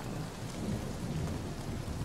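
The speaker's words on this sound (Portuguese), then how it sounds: "agora temos que ir para o meio da tempestade" Thunderstorm with heavy rain in the PS4 game Uncharted 4, a dense continuous wash of rainfall with low rumbling underneath, steady and loud throughout with no voices.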